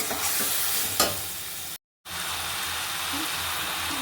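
A ground paste of onion, ginger, garlic and garam masala fries in a pan with a dense, loud sizzle. Scraping stirs sound through it, and a brief dropout cuts the sound near the middle.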